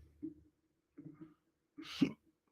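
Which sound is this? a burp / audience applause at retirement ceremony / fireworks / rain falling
a burp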